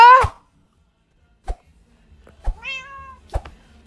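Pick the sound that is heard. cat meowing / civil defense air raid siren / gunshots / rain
cat meowing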